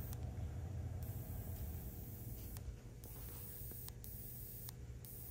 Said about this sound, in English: It's like a hiss noise happening every second.